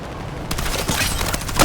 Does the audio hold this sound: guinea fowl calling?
no